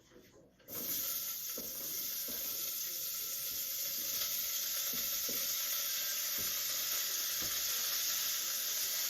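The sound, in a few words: celery, garlic and onions sizzling in a hot pot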